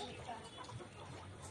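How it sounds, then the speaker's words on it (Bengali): Layer pullet chickens ready for egg laying cluck softly and faintly in a farm shed, a low continuous murmur of fowl sounds. "এই মুরগিগুলো একদম ডিমের জন্য রেডি লেয়ার পুলেট মুরগি"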